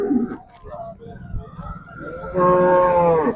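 Someone talks briefly, then a cow lets out a long, loud moo close by.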